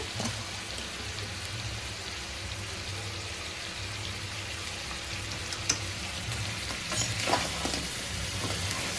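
Sea crabs frying in a pan with curry leaves and coriander, giving a steady broadband sizzle throughout with occasional louder pops and stirring scrapes, no voices.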